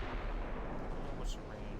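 Naval guns fire high-explosive shells in the Ultimate Admiral Dreadnoughts game, a heavy, rumbling low boom that fills the whole moment with dense, sustained roar and a faint higher blip near the end.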